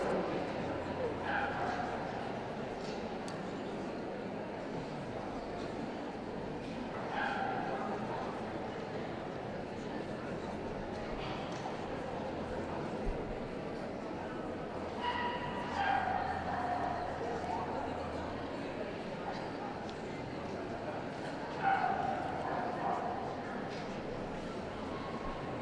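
Pekingese dogs at the 2017 UK Toy Dog show let out brief, faint yips and barks every few seconds, surfacing under steady commentary and hall noise.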